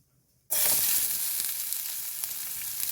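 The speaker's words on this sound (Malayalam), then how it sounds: "ഇനി നമുക്ക് ഇതിനകത്തേക്ക് ഉള്ളിയും പച്ചമുളകും കൂടി അരിഞ്ഞത് ഇട്ട് കൊടുക്കാം" Chopped onions and green chillies hit a hot pan for Kerala-style beef fry, starting with a sudden loud sizzle after a moment of quiet, then settling into a steady close crackling hiss.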